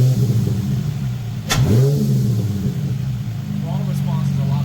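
An Infiniti G35 coupe with a cold air intake revs up sharply and drops back, the engine note rising in a quick sweep then returning to a steady idle with a few small blips, while someone talks over it.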